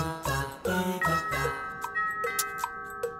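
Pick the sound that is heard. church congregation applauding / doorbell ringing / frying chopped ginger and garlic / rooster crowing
doorbell ringing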